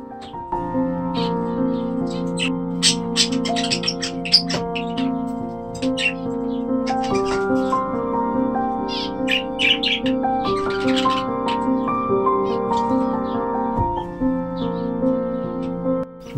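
Pet budgies in a bird room chirping, a busy layered chorus of tweets and warbling calls that carries on throughout, close and fairly loud, with no talk.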